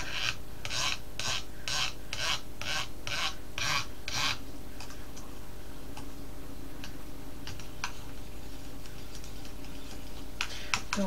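A hot henna hair conditioner with green tea and coconut being stirred in a bowl fresh from a double boiler, giving a rhythmic series of scraping strokes at first, then scattered softer scrapes and taps.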